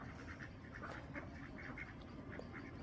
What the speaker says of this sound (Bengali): হাঁসেরাও ইশারা সংকেত দেয়, হাঁসেরা কথা বলে